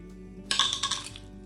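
Glass jar of molasses being opened and handled, giving a short cluster of bright clinks and rattles, close and moderately loud, over a quiet background with no talk.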